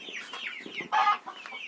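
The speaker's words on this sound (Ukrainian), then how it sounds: "Разом з ними тут ходять е, карликові півники" Bantam roosters clucking on a farmstead, a run of short, close chirpy calls with a louder burst near the middle.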